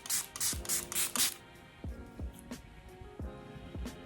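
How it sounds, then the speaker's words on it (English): Makeup setting spray misted onto a face: a quick run of about five short, bright hissing spritzes close up, followed by quieter soft rubbing and tapping sounds. "you're just gonna spray that on your face"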